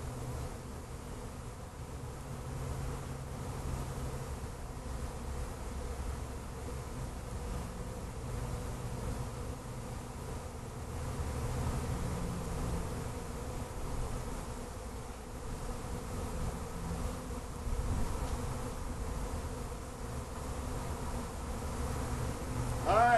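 A swarm of honeybees in flight during a swarm capture outdoors, a steady dense buzzing hum that holds at an even level throughout, close and continuous with no talk.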